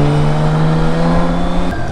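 A compact motorcycle engine runs close by with a loud, steady drone and a strong low hum. Its pitch holds even, then dips slightly near the end.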